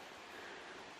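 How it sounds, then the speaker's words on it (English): A mountain stream runs beside a birch forest trail on Mt. Hale, New Hampshire, as a soft, steady, faint rush of water heard briefly. "Hear the water running."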